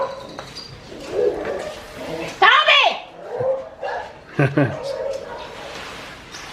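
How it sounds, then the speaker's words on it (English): A dog barks and yips excitedly at a passerby on the street outside a house in the Philippines, several sharp barks coming in bursts with people talking and calling out over them. "the dog's going crazy because someone's going down the street"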